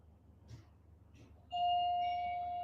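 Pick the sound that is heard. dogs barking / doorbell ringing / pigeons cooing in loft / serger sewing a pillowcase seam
doorbell ringing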